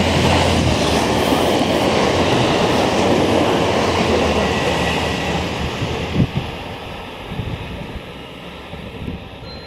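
An HC85 series limited express Hida train for Takayama runs through Biwajima station without stopping, a loud close rolling roar with wind rush that gradually fades, with a few faint clacks near the end.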